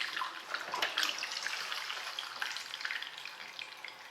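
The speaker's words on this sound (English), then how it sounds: "Now all these juices, they're in here, we're going to keep as part of our liquid gold. You just want to pour them off" Brisket juices poured off through a sieve for a barbecue liquid reserve, a steady close trickle and splash of liquid running for several seconds without pause.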